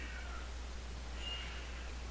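A cat meows twice indoors, faint and somewhat distant, a thin cry then a longer one over a steady low hum, with no talking.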